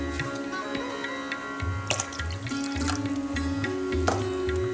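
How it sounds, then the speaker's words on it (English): Water runs and splashes into a pan already holding sugar as jalebi syrup is started, a steady trickling pour with a few sharper drips and splashes, close and alone. "Add 2 cups of water."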